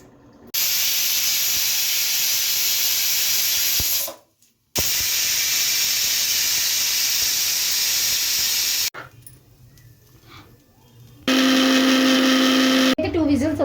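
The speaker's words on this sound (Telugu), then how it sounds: "దీన్ని ఒక టూ విజల్స్ వచ్చేంత వరకు స్టవ్ మీద పెట్టుకుందాం" A pressure cooker on a gas stove hisses loudly and steadily as steam builds, with a brief break, a quieter stretch, then a sharper high steam whistle near the end.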